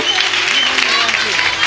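A church congregation breaks into brief, loud applause, a dense burst of clapping mixed with voices and sustained tones.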